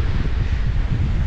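Strong wind roars steadily by Lake Nahuel Huapi at Bariloche in Argentine Patagonia, a dense low buffeting rush across the microphone throughout, with no talk.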